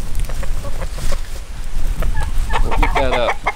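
Chickens clucking and calling close by while they wait for pieces of broken, slightly unripe papaya, a flock of fowl with repeated clucks and a louder squawking burst near the end, no talk.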